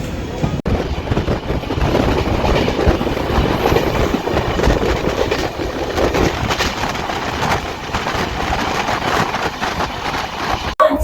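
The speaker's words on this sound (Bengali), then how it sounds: "তো ট্রেন ছেড়ে দিয়েছে" A passenger train bound for Puri pulls out of the station and rolls steadily along the rails, a continuous loud rumble with clattering wheels throughout, with no talking.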